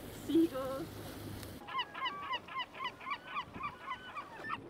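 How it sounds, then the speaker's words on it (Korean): Seagulls squawk in a frenzy over fish thrown as food along an Arctic coast in Norway, a fast run of loud, rhythmic repeated calls after a brief muffled noise. "그리고 난리난 갈매기들."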